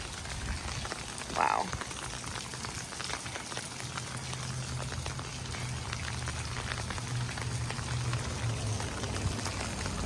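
Steady rain falls in Anaheim, California, a dense even hiss of drops on surfaces lasting throughout, with one brief voiced exclamation near the start.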